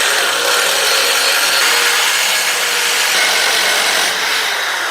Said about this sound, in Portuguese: Vou apertar bem com o mandril, porque a minha furadeira não tem velocidade,